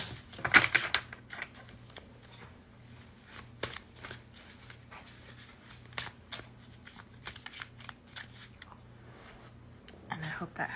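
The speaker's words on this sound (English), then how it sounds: "I'm gonna keep shuffling until someone says." A deck of cards is shuffled by hand in a quiet room, soft riffling bursts and taps recurring irregularly, loudest at the start and again near the end, with a low hum underneath.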